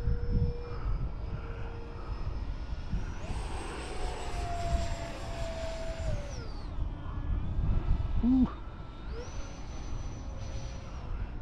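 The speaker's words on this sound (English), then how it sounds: "Yeah, you can definitely hear that thing's winding up harder." An FF-117V2 70mm EDF RC jet on a 5S battery screams past, its high ducted-fan whine rising and dropping in pitch as it makes laps, loud and continuous with a Doppler sweep, without talk.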